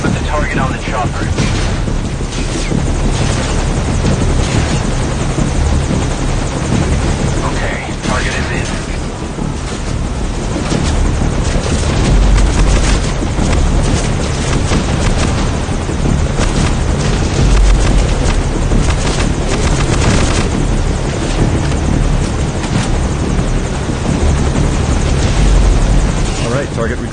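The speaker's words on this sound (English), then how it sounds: "Target recovered, and we're on the chopper." A military helicopter in the night mission of the video game Metal Gear Solid V: Ground Zeroes gives a loud, steady rotor roar that runs throughout, with voices and occasional heavy booms mixed into the din.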